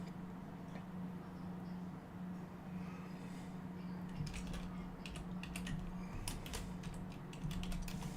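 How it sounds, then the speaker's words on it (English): A computer keyboard with a fault is typed on in irregular clusters of quiet clicks, growing busier toward the end over a steady low hum in an indoor room. "My keyboard has been acting up most of the day."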